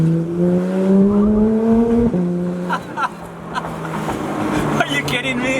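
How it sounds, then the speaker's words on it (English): A Porsche 991 GT3 engine revs up through the gears, rising tones broken by quick shift drops, heard from inside the car with road noise behind. "The sound of this car under acceleration in between shifts is just unbelievable."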